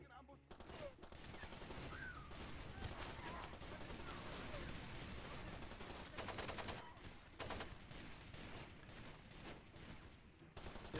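Rapid AK rifle gunfire in the video game Far Cry 2, with dense bursts of shots and heavy battle noise filling the scene and a voice heard faintly underneath.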